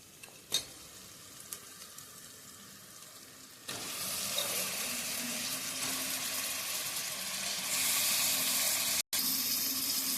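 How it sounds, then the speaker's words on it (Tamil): Chicken hits a hot pan for chicken biryani after quieter clatter, setting off a steady loud sizzle with scraping from stirring that holds to the end, briefly cut off once. "இப்போ நம்ம சிக்கன் அள்ளி போட்டுப்போம்."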